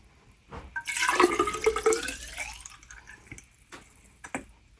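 Water is poured through a funnel into a CoCoRaHS rain gauge, a splashing pour that swells after a moment, lasts about two seconds, then trails off into a few drips.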